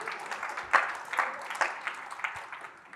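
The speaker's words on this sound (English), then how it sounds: "And clap for that one, damn it." A modest audience applause at a talk on culture and creativity, with a burst of scattered clapping that swells and then gradually tapers off.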